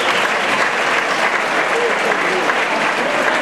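A dense wall of applause fills a school hall during a graduation ceremony for vocational computing students, loud and unbroken, with faint voices murmuring under the clapping.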